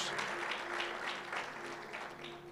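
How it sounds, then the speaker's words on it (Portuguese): A church congregation applauds in a steady, fairly soft burst of clapping that fills the whole stretch, heard from within the room. "Você pode dar um aplauso bem forte ao Senhor?"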